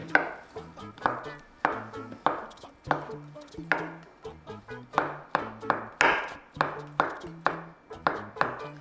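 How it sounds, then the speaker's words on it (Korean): A knife finely chopping food on a cutting board, crisp close chops coming in quick bursts and steady runs, with no talking. "기름도 똑같이 이렇게 잘게 잘라주시면 돼요."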